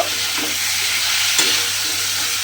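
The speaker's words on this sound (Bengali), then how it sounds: "দিয়ে ডালটাকেও আমি খুব ভালোভাবে মিশিয়ে নেব" Mung dal stirred into potatoes in a frying pan, a steady close sizzle of frying with soft scraping from the spoon and one brief louder scrape; no voices.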